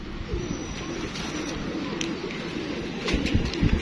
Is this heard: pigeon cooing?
yes